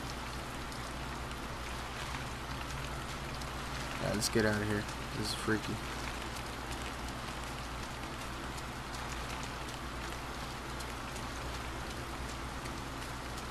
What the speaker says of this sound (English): But look at even the leaves are getting pushed down by the rain.